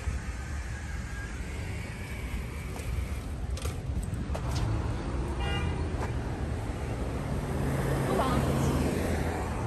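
A car horn toots briefly amid steady traffic and background noise, with voices talking nearby.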